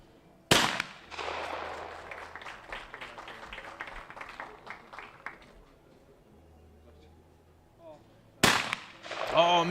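Shotgun blasts from a men's junior trap final, a sharp loud report opening the sequence and another near the end, with crowd clapping and scattered noise in between.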